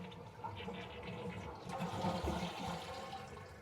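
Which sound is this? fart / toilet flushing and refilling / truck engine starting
toilet flushing and refilling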